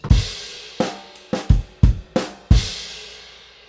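A drum kit plays a rock groove from a song, with an early crash cymbal landing together with the bass drum among several loud, close hits, the final crash ringing out and decaying alone.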